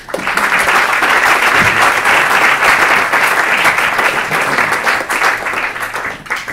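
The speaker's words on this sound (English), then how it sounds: "I think they deserve a good round of applause for being with us." An audience at Canning House applauds the guests of a panel discussion on Brexit, with loud, sustained clapping from a roomful of people that fades slightly toward the end.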